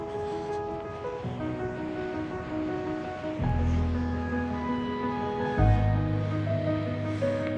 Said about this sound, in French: J'adore toujours autant entendre les vagues de l'océan.